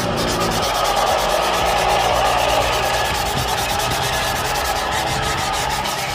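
Steady rhythmic wet sanding of a metal engine block with sandpaper and water, close and continuous, with faint roadside traffic rumble in the background.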